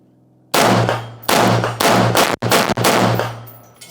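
Four sharp, loud gunshots from a gun fitted with an upgraded Rize Armament trigger, fired at a steady pace with a ringing tail after each report and a brief clack between the last shots.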